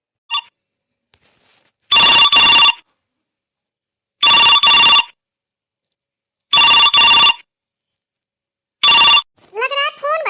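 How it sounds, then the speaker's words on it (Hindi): A telephone rings in four loud, evenly spaced electronic bursts in a quiet home, with a brief child-like voice at the end. "लग रहा है फोन बज रहा है"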